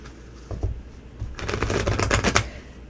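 Tarot cards being shuffled up close, a brief riffle followed by a longer, rapid flurry of crisp fluttering snaps.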